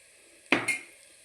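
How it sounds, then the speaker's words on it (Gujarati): Green pigeon pea grains (tuvar lilva) drop into a hot pan for a vegetable dish, setting off one sudden sizzling hiss with a slight clatter that quickly settles into a low simmer. "હવે આપણે દાણા નાખી દઈશું તુવેરના, લીલવા."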